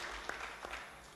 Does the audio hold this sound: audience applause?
yes